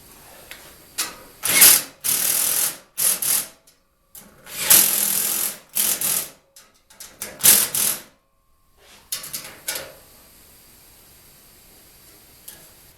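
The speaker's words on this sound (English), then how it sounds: "I'm just going to take the rest of the bolts and snug them up." A ratchet snugs oil pan bolts on a 420A 2.0L engine: repeated bursts of rapid clicking, several strokes at a time with short pauses between them, close and clear, followed by softer handling noises.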